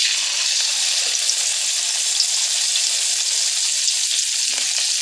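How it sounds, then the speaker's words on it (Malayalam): Flat manthal fish, a sole-like fish, fries in hot coconut oil, producing a steady, close, dense sizzle that holds evenly without pause and with no talking over it. "വെളിച്ചെണ്ണ നന്നായിട്ട് ചൂടായിട്ട് നമ്മുടെ മാന്തലിട്ട് കൊടുക്കാം"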